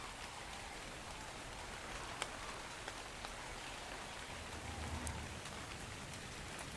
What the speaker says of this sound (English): Oh, I wish this rain would do one